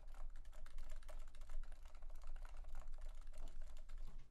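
Rapid, steady keystrokes on a Leopold FC660C Topre keyboard, silent version, sound as soft, muted, close clacks in a continuous typing rhythm at low volume, with no voices.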